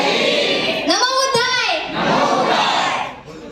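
A crowd at a Dhamma camp loudly shouting "Bhim" together in one sustained, swelling chant, with children's voices audible, followed by a second rising crowd shout.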